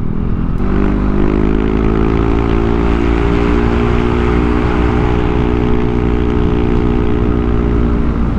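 A Yamaha Aerox V1 scooter with an upgraded CVT climbs a hill at half throttle, its engine a steady, close, even drone with constant low harmonics that holds throughout without any voice.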